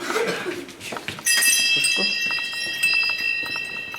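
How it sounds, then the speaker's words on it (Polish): Partway through, a sygnaturka, a small hand-rung church bell carried by an altar server in a procession, rings out in bright sustained jingling tones and keeps ringing behind shuffling and faint background noise. "sygnaturką dzwoni pierwszy ministrant, który idzie w procesji za świeczką"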